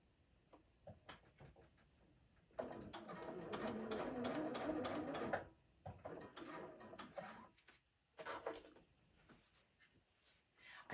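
A sewing machine stitching a fabric front panel runs in a loud steady burst for a few seconds, then in shorter starts and stops amid light handling clicks and rustles.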